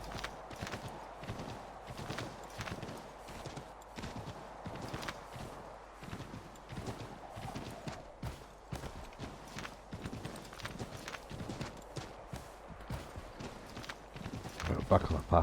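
Steady clip-clop of horse hooves trotting at an even rhythm in the video game Assassin's Creed III, close and clear, continuing throughout with a brief louder burst near the end.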